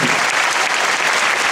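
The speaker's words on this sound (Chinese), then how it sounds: "我们给他们一个热情的掌声" A concert audience at a fundraising thank-you event bursts into loud, dense, steady applause that fills the whole moment.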